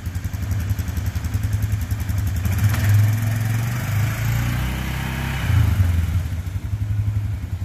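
2014 Polaris Ranger Crew 570 EFI side-by-side driving in low gear, a steady close engine drone with rhythmic clattering throughout, swelling slightly midway.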